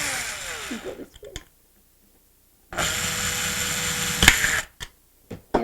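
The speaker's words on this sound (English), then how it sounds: "we're going to drill a hole in the side" A power drill whirs in two bursts separated by a silent gap as it drills a hole in a plastic bottle, the second longer and steady, with a few short clicks and knocks nearby.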